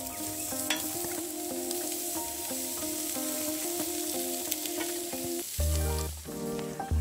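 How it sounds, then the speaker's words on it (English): Lamb skewers sizzle steadily on a hot Weber Baby Q barbecue, a continuous crackling hiss that swells briefly louder near the end. "Hear that sizzle."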